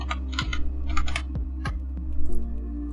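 Text typed on a computer keyboard, a few quick clusters of close, crisp key clicks with short pauses between them and no speech.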